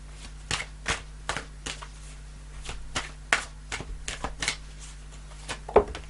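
Tarot cards are handled and pulled in a run of crisp, sharp flicks and light slaps, irregular and close, with brief rustles between them and no voices.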